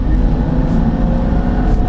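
A Suzuki Grand Escudo XL7 with an H25A 2.5-litre V6, 24-valve DOHC engine holds a steady, loud, close revving drone from inside the vehicle, without talk.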